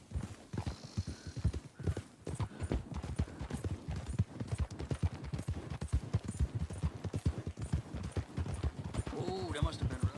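Hooves of a donkey clip-clop steadily and briskly in Red Dead Redemption 2, close and even in rhythm throughout, with voices talking over them.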